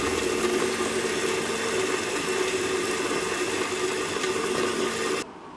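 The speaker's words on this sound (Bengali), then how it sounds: "তো চলো এবার বেটে নিই হচ্ছে মশলাটা বেটে নিয়ে" An electric grinder blending a spice paste that includes kalo jeera for a fish dish: a steady, close, whirring motor drone running evenly for about five seconds before cutting off abruptly.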